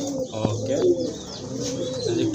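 Pigeons at a Bangladeshi pigeon seller's coop, a large-sized pair, give soft repeated throaty coos close by, with a few faint chirps mixed in and no talking.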